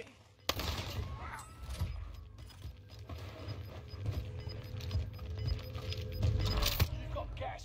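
Gunfire erupts during an online shooter video game match: sharp bursts and rapid strings of shots over mechanical clatter, with a loud crack near the start and another near the end, all under a steady game background.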